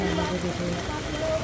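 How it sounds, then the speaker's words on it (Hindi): Steady rain falls in Haldwani, a dense hiss spread across the whole clip, while people talk nearby beneath and over the patter. "बारिश हो रही है"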